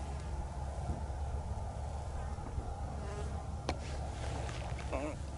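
Insects including soldier beetles swarm over flowers in open grassland, giving a steady low buzzing drone that sounds close at hand, with one brief higher whine passing partway through. No one speaks.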